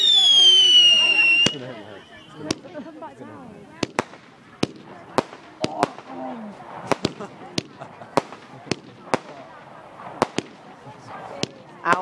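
A bonfire night fireworks display at Carey: a whistling rocket climbs, then a long run of sharp, irregularly spaced bangs and cracks echoes at mid-distance over quiet background chatter.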